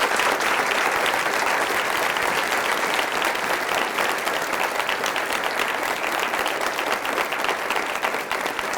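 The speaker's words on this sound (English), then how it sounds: "everyone will join me in a round of applause" Sustained applause from a large audience, dense and loud clapping that holds steady throughout without pausing.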